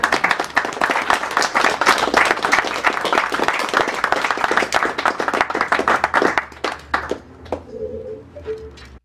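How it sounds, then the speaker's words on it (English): A crowd at a charity speedrun event applauds a world-class knitter, sharp dense clapping that is loud for several seconds and then thins out to a few scattered claps. "I believe your knitting deserves a great round of applause"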